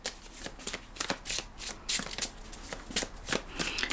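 Tarot cards shuffled by hand in repeated quick riffling bursts, close and fairly quiet, with no talking.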